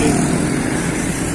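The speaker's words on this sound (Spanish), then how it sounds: "Ya nos disponemos a coger la moto para irnos a hacer la parte de Siloé" A motorcycle engine runs steadily close by on an evening street, a continuous buzzing drone with a slight flutter and no speech over it.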